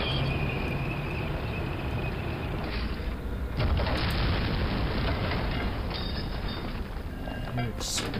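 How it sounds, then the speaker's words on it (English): Continuous loud rumbling blasts and crackling gunfire-like bursts from the video game Medal of Honor: Allied Assault, with a sharper boom partway through. "Explosions."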